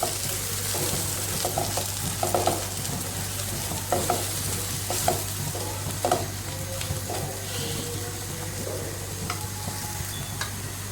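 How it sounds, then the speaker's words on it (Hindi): Eggs and banana stirred together in a pan, a soft scraping and mixing with light sizzling, steady and close with a constant low background hum, no talking. "अब मैं इनको इस तरह से सबको मिक्स कर लूँगी"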